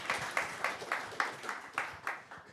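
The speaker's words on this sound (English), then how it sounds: "Let's give them a round of applause." A small audience at a conference panel on stablecoins claps in a regular, evenly spaced rhythm. The claps are moderately close and fairly quiet, with no talking.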